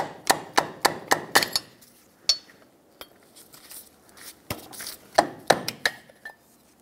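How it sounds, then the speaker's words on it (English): Metal pry bar knocking and levering at a stuck front wheel hub part on a 1996-2002 Toyota 4Runner, a quick run of sharp metallic taps followed by scattered clanks and scrapes, close and fairly loud. "I'm gonna switch to a pry bar."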